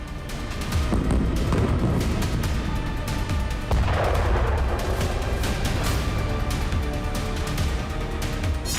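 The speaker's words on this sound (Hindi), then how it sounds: "गाजा शहर में इजरायल सेना का भीषण बारूद बरस रहा है" Heavy booms and gunfire from Israeli strikes on high-rise buildings in Gaza City, dense and continuous explosive rumble with no talk.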